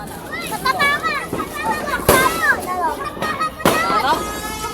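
New Year firecrackers bang in sharp, loud cracks at about two and three and a half seconds, with people talking and shouting excitedly throughout.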